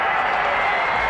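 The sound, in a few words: stadium crowd applauding at end of rugby league match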